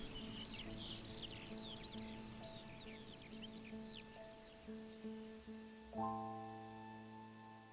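Birds chirp and twitter quietly in short, bright bursts, busiest early on, over a soft, sustained musical backdrop.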